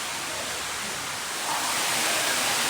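Indoor waterfall at a mini golf course, a dense, steady rush of falling water, loud and close, swelling slightly partway through, with no voices.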